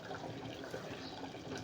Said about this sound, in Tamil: கொதிச்சுட்டு இருக்கு.